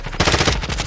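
Rapid automatic gunfire in the Call of Duty Warzone video game, a close, loud burst of fast repeated shots.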